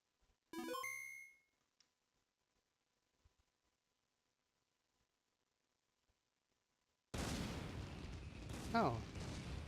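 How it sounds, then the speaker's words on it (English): Fireworks in the Pokemon Black 2 video game: a short chiming effect, then a long silence, then a sudden loud wash of dense crackling bursts that runs on steadily to the end. "Oh, fireworks. That's nice."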